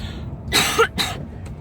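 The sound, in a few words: smoker's cough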